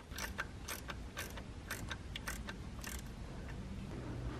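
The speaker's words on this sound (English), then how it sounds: "let's tighten all these Vanos bolts" A ratchet wrench tightens the Vanos bolts on a BMW S54 engine, giving short, quiet bursts of clicking in an irregular rhythm, close by with no talking.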